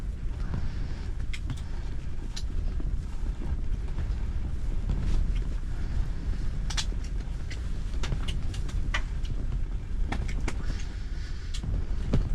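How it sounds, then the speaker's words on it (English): Strong wind buffets the microphone out on frozen Lake St Clair, a constant low roar with some scattered thumps and clicks, heard without talk. "Goodness, that wind."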